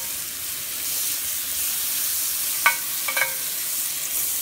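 Eggs cook in butter in a pan with a steady, close hiss of sizzling, broken by a couple of sharp clicks and pops just past the middle; no one speaks.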